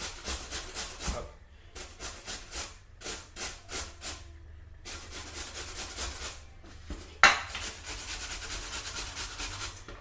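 Potatoes being finely grated for rösti, a rhythmic series of rasping scrapes in bursts with brief pauses, close and fairly soft, ending in a sharper knock followed by steadier grating.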